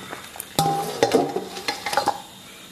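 Pork belly scooped out of a simmering pot, with a sharp metal knock followed by clattering scrapes and taps of a ladle or strainer against the pot, close and dry, no talking.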